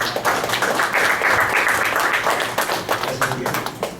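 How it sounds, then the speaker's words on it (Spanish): Indoor audience at an academic lecture applauding a visiting professor, a few seconds of brisk, close clapping from a modest crowd that thins out toward the end. "lo recibimos con aplauso"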